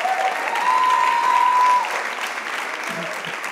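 Applause from a church congregation after a worship music performance, a dense sustained wash of clapping that swells and then eases, with a faint tone and a voice near the end.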